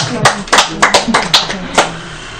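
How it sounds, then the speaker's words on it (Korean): A few separate hand claps ring out in a church worship service, sharp and fairly close, spaced irregularly about every quarter to half second rather than as a full round of applause. "박수 한번 치셔야 되지 않겠습니까?"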